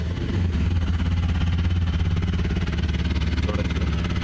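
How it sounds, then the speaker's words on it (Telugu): A 2025 TVS Apache RTR 160 4V motorcycle engine runs at a steady idle, a continuous close low throb with a faint mechanical clatter and no one talking. "ఒకసారి ఇంజిన్ స్టార్ట్ చేస్తాను, చూద్దాం ఇంజిన్ ఎలా స్టార్ట్ చేస్తాను"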